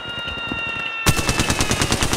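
Automatic weapon fire in Apex Legends bursts in suddenly midway, a fast rattling stream of close, loud shots after a quieter stretch of game ambience.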